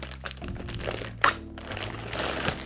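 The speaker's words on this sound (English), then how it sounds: "Comes in this plastic bag." A plastic bag holding a TP-Link EAP245 AC1750 access point crinkles and rustles softly during handling, with one sharper crackle midway and light scattered crinkles throughout.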